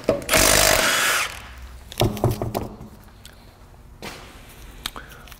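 Power tool loosening wheels on a Honda Element: a loud burst of impact-tool whirring for about a second, then softer clanks and taps of metal, with another short burst near the end.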